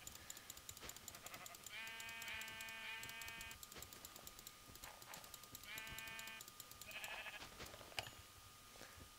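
Sheep in the Minecraft video game bleating in two short harmonic bursts a few seconds apart, moderately loud over faint background clicks and game noise.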